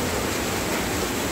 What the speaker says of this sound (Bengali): এখনও ঝিরঝির করে বৃষ্টি হচ্ছে